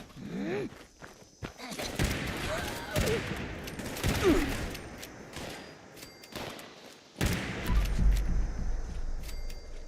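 A radium rifle fires in Fallout 76, with scattered rapid bursts and single sharp shots at moderate loudness, mixed with footsteps and other game noises.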